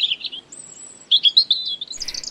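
Birds chirp and sing in quick, high bright phrases, a few short bursts and a thin whistle close by, with no talk.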